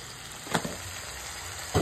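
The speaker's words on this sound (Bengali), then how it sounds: "এখন একটু ভাজা ভাজা করি, তবে ভাজা ভাজা করার আগে একটুখানি চিনি দিয়ে নিই।" Ground ginger and chili spice paste frying in a pan with a little sugar for potato cauliflower curry, a steady soft sizzle with a couple of brief louder stirring bumps, close and without talk.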